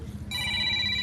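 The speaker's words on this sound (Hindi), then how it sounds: "राजेश सर का फोन।" A mobile phone in a mechanic's workshop starts ringing partway in, a steady electronic ringtone with sustained bright tones over a low background hum of the shop.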